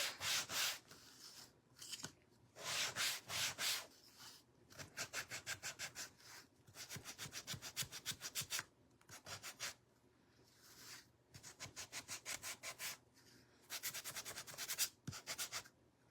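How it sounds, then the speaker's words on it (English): Rhythmic back-and-forth scraping of sandpaper on wood, in repeated bursts with short pauses between strokes, close and steady. "let's give it a sanding"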